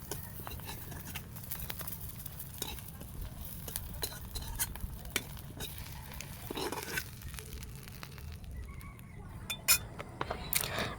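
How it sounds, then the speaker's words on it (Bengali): Washed broken rice being fried and stirred in hot mustard oil, with close scraping of a utensil against the pan, light clinks and a faint sizzle running throughout, no voices. "এখন আমি এর মধ্যে আমার যে ধুয়ে রাখা চালগুলো ছিল, খুদের চালগুলো ছিল, সেগুলো দিয়ে ভালোভাবে এটা ভেজে নিচ্ছি"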